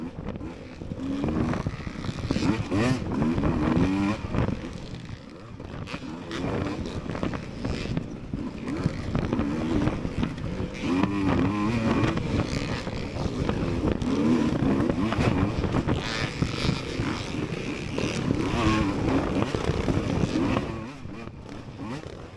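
Racing motorcycle engines roar continuously through a motocross-style race, a dense, loud blend of revving bikes including a Kawasaki, rising and falling as riders jostle for position, with no talk.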